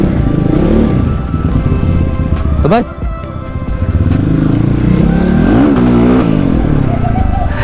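A motorcycle engine runs loudly and close throughout, with rising revs and throttle changes, while someone speaks briefly over it.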